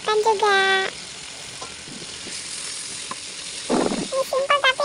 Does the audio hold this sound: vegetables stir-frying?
yes